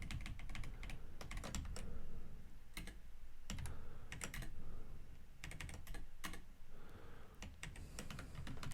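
Rapid, uneven clatter of keys on a computer keyboard during a coding session, close and steady, with short bursts and brief pauses throughout and no talking.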